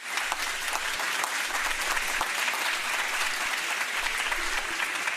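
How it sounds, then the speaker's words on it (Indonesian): A large crowd applauds in a dense, continuous patter of many hands clapping, sustained and fairly loud from start to finish. "suara banyak orang kasih tepuk tangan"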